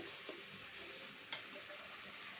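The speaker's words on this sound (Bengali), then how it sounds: "মশলাটা কষিয়ে নিচ্ছে" Spice masala for a taro curry sautés in a pan with a soft, steady sizzle and a couple of faint utensil taps, quiet and close, with no one speaking.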